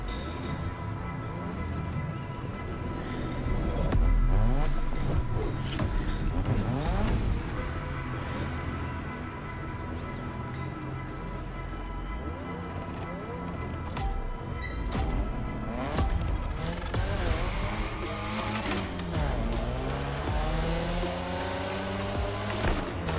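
A Mazda RX-7 racing in The Crew Motorfest gives a loud, continuous engine roar with repeated rising and falling revs through gear changes, close and steady, with crashes and mechanical noise mixed in and no talking.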